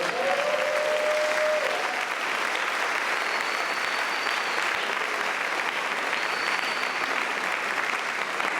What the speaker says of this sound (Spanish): Dar un aplauso a Dios, por favor.